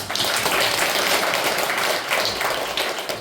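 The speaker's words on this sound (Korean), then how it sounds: "박수 한번 주세요." Loud, dense applause from a church congregation at a house-church gathering, a continuous wash of many hands clapping close by throughout the short stretch.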